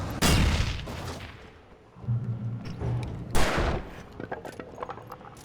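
Gunfire in Alan Wake Remastered on PS5: two loud, sharp bursts of shots, one at the start and one a few seconds later, with lower rumbling game ambience and scattered clicks between them.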